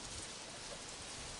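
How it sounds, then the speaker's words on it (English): Rain falls outdoors as a dense, steady hiss of drops on surfaces, even and close, with no voices over it. "it's raining good here now"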